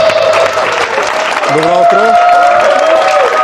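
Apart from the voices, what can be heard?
studio audience applause on a TV show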